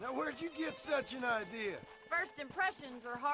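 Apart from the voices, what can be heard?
No distinct noise like a dog, phone or traffic.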